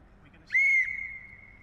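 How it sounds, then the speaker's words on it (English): A single sharp, high referee-style whistle blast at a World Cup fan event rings out clearly, holding steady for about a second before trailing off faintly over quiet background noise. "So Lee, you got the whistle."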